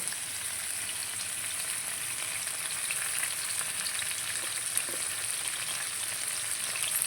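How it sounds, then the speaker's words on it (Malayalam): Fish and curry leaves fry in hot oil with a steady, dense sizzle and crackle that holds evenly throughout, close and fairly loud, with no voices. "അപ്പൊ മീനൊക്കെ ഇട്ട് ഇനി ഇച്ചിരി വേപ്പിൽ ഇട്ട് കൊടുക്കാം കേട്ടോ"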